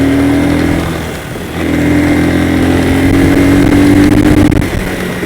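A SPARK motorcycle engine is revved with the throttle: a loud, close, droning tone dips briefly, then climbs and holds a higher pitch for several seconds before easing off, with no talk.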